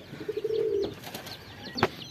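A racing pigeon coos softly, followed by a short, sharp sound and faint rustling, close and otherwise quiet.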